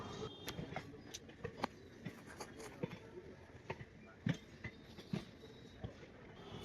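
A faint, low rumble of a train rolling slowly into Howrah station, with irregular clicks and clanks from the wheels and carriages over several seconds.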